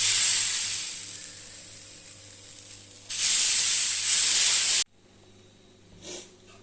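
Ragi and broken gram dosa batter sizzles on a hot griddle as a steady, close hiss that swells louder partway through, then cuts off abruptly into near silence with one faint soft puff.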